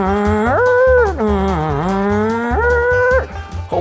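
A voice imitates a race car engine, its pitch sliding up into a revving whine, dipping low, then climbing and cutting off sharply. The sound is loud and close, with light knocks underneath.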